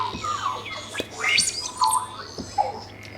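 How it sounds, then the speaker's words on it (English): Electronic, robotic bird-like chirps and squawks in a piece of music, warbling synthetic calls that sweep up and down in pitch over a steady low hum, moderately loud and with no voices. "It sounds like I'm in a robotic forest watching robotic birds."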